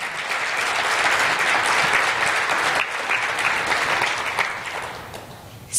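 A church congregation applauds loudly and continuously, a thick wash of many hands clapping that holds steady before thinning slightly near the end.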